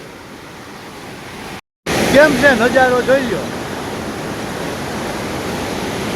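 Water from the overflowing Moj river dam, released through its opened gates, rushes past in a loud, steady roar. Someone speaks briefly over it after a momentary cutout, then the torrent continues alone.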